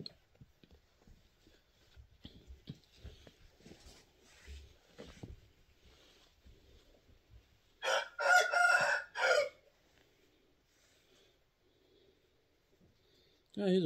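A big rooster of about eight pounds crows at a middle distance in one loud, broken call after faint rustling and low murmuring, and another crow starts at the very end.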